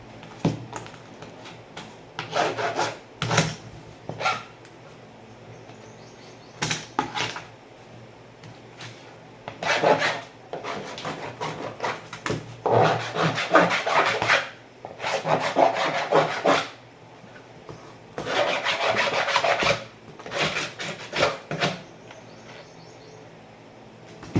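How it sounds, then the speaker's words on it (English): Hand saw rasping through a plastic paint pail in repeated bursts of back-and-forth strokes with short pauses between, close and fairly loud, with faint birdsong in the background. "I will consider cutting it a little bit further here."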